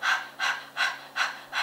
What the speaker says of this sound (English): You can bring your hand on the tummy and just pant like a dog.